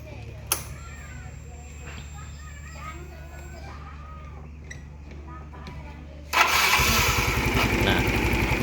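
A motorcycle engine with a freshly fitted spark plug cranks and fires into a loud, steady idle after a quiet stretch of faint background noise and a few small clicks.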